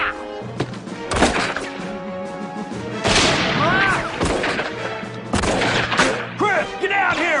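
Gunfire in a TV western, several sharp shots and thuds spaced through the scene, mixed with shouting voices and music.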